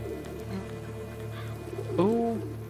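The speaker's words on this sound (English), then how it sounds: "There's raven things watching me." A large black bird calls from The Witcher 3: Blood and Wine game world, one rough harmonic squawk standing out near the end over a steady low in-game ambience.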